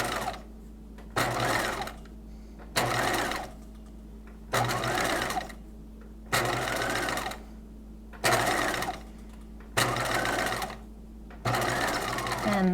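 Sewing machine stitching twill tape onto a bodice, running in a regular series of short, even bursts of rapid whirring stitching with brief quiet gaps between, close by.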